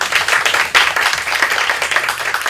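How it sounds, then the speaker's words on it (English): A forum audience gives the speakers a round of applause at the close of a session. Many hands clap together in a dense, continuous patter that is loud and sustained throughout. "I would like to ask all of you to give a round of applause to 3 excellent speakers of this session"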